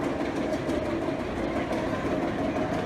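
Steel roller coaster train climbing the lift hill at a construction site, a steady continuous mechanical rattle and rumble that stays close and loud throughout with no voices.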